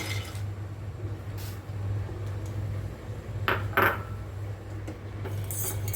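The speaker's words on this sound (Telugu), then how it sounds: "జీడిపప్పు వేయించుతున్నానండి జీడిపప్పు వేయించుతున్నాను" Cashews roast in a kadai pan with a steady low hum underneath, broken by scraping spatula strokes and a cluster of metallic clinks about midway.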